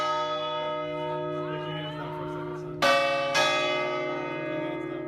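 Church bells ring at the top of the Leaning Tower of Pisa. A sustained bell tone hums at first, then two loud fresh strikes land close together and ring out with long shimmering decay.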